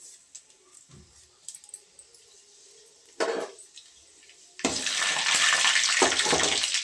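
Mustard seeds, urad dal and fenugreek hit hot oil in a pan, starting with scattered faint crackles and a brief burst, then breaking into a loud, steady, close sizzle.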